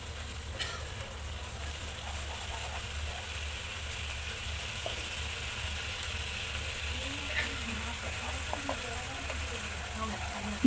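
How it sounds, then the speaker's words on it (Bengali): Pomfret fish masala sizzles steadily in a pan with water, salt and chili powder added, while a spoon stirs it now and then; the frying hiss is continuous and moderately close. "তারপর পরিমাণ মতো নুন তারপর জল দিয়ে আবারও ভালো করে কষিয়ে নেবো"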